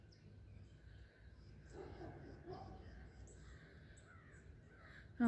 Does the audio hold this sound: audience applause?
no